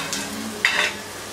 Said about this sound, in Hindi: पालक हल्के से फ्राई कर लेती हूँ